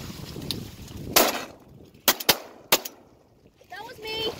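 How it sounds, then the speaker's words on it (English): Several sharp shotgun blasts ring out while duck hunting for a widgeon drake, loud and spaced irregularly in an open outdoor setting, with people talking between shots. "I shot, and then I shot again."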